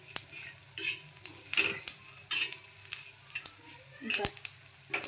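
Masala for mutton rassa roasts in a pan: soft sizzling under repeated scraping stirs and sharp clicks of a spoon against the metal, close and fairly quiet.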